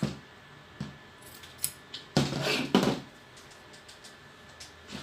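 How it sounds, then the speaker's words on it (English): Fabric shears slice a piece of dress fabric in two, a few crisp snips and then a longer scraping cut up close, with light clicks of the blades in between. "I'll cut it into two because of zip."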